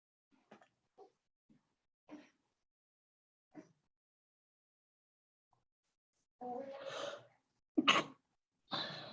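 During a language lesson, soft scattered noises give way to a few louder, abrupt bursts like sneezes near the end, close and short, with quiet gaps between.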